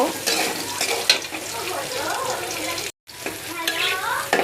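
Potatoes and chopped onion fry in oil while being stirred in a pan, a close, continuous sizzle mixed with scraping stir sounds and a brief dropout in the middle.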